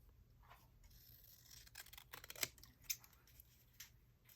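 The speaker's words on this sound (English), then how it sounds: "I am going to cut this out" Scissors cut through a junk mail envelope in a quiet room, a series of soft close snips and paper rustles with a few sharper clicks of the blades.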